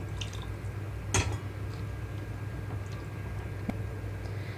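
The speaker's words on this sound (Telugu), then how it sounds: "నేనైతే ఇక్కడ నాలుగు నుంచి ఆరు కప్పులు వాటర్ వరకు వేస్తున్నానండి" Water poured steadily into a cooking pot while making rasam (pappu charu), a steady liquid wash with a brief splashy burst early on, heard close with no talking.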